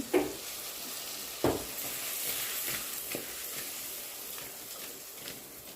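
Fish pieces in a cooking pot get shaken side to side, giving a few soft sloshing, rattling bursts at the start and again a little later over a steady low hiss, with no talking.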